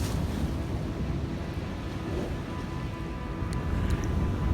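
Ocean waves at Venice Beach, California, make a steady, fairly loud wash of surf mixed with wind buffeting the microphone, with no talking.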